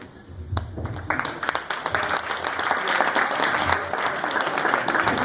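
Sustained applause from an audience builds and holds steady, a dense wash of many hands clapping with a few sharper claps near the start.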